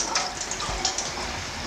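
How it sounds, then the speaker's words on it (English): Water drains out of a bowl of soaked, soggy matzah during Passover cooking. It makes a steady, close rush of pouring water with small splashes, heard alone. "And now we drain the water."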